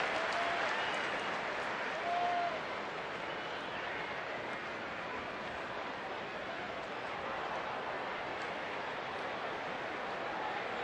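A huge crowd of more than 53,000 at an evening Major League baseball game, Atlanta at Los Angeles in 2009, cheers and applauds in the scoreless 8th inning. The roar is steady and fills the stadium for the whole stretch.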